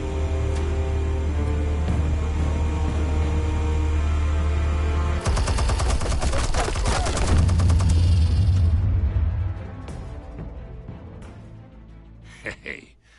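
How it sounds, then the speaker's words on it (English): Video game explosives and gunfire arrive after a long steady low drone: a sudden loud burst of rapid fire rattles for a few seconds, then fades to quieter scattered pops. "Explosives armed. Fire when ready."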